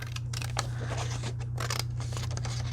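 Scissors cutting through paper or fabric during a planner-crafting session, a run of quick crisp snips and slicing scrapes over a steady low electrical hum, close and fairly even in level.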